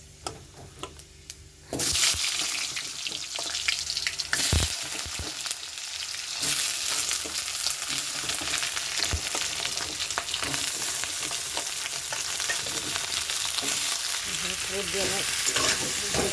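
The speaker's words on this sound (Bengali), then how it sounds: "সবজিটা ভাজা হচ্ছে" Vegetables (beans, potato, pumpkin) frying in a pan with panch phoron, a loud dense sizzle that bursts in after a quieter start and holds steady, with scattered clicks of stirring and no voices.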